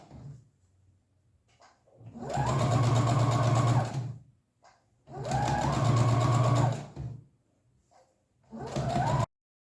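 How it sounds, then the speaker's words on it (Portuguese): A sewing machine runs in three bursts, stitching along the edge of bias tape on a small fabric treat bag, a steady close mechanical whir with short quiet pauses between runs. "uma costurinha na borda desse viés e outra costurinha aqui na borda"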